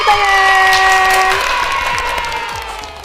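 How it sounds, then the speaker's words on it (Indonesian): Applause and light cheering from an audience at a children's Ramadan fasting talk show, a dense clapping wash that stays loud at first and then slowly fades over about three seconds. "Kasih tepuk tangan."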